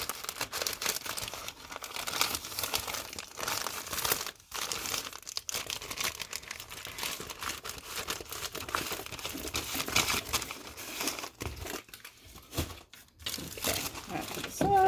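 A diamond painting canvas is rolled up and pushed into the small envelope it came in, giving steady close crinkling and crumpling of plastic and paper across the whole stretch, with brief pauses and a voice speaking at times over it.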